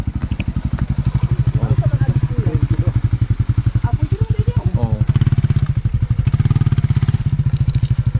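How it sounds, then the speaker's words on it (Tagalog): A motorcycle runs on a mountain trail near Lake Duminagat, its engine loud and close with a steady pulsing throb for the whole stretch, swelling slightly midway, while a voice briefly speaks over it. "Nadaan dito motor."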